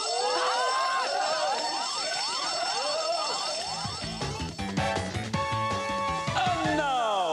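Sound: fire alarm sound effect played from a soundtrack

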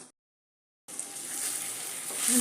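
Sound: raw mango added to sizzling tempering in pan

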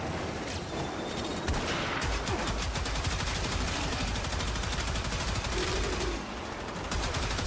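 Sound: gunfire from a gun in the video game Warframe

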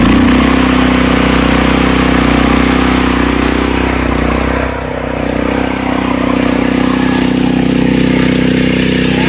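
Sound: Hyundai rotary tiller engine running after kick start

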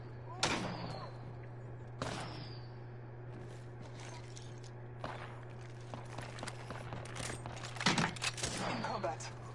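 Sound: gunfire in the video game Apex Legends

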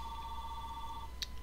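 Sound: telephone ringing

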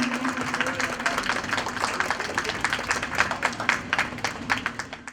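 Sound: audience applause at school building foundation ceremony

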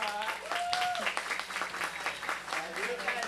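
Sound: audience applause for Gabivan

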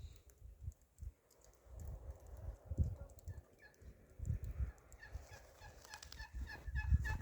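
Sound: geese

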